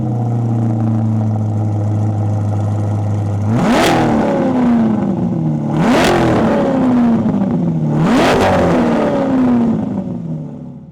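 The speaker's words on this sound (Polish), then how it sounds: "już odpalamy to auto i zobaczcie, jak to ładnie chodzi" A Corvette C8 engine idles, then revs sharply three times in a row, each rev rising to a roar before dropping back, loud and close.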